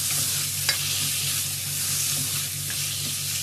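Egyptian rice sautéing in a pot for vegetable soup gives a soft, steady sizzle with a light stir or scrape, fairly quiet and continuous with no talking.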